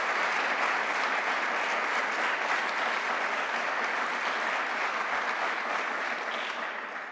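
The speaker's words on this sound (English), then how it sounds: "Let's have one more round of applause for Lee and Linda." An auditorium audience at a university speaker series announcement gives a steady round of applause, dense and continuous clapping that stays loud throughout and fades slightly at the end.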